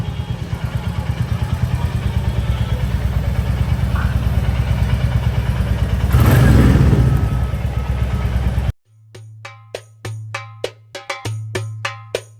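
A motorcycle engine runs steadily with a low, even drone for most of the stretch, then cuts off abruptly and is followed by sharp clattering knocks.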